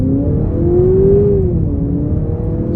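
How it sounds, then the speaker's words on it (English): A 2023 Honda Accord Sport with the 1.5-liter engine, in Sport mode, accelerating hard from a stop, its engine and induction note droning loudly and rising steadily in pitch from the cabin, with no talk over it. "Still in Sport mode, so you hear that induction noise."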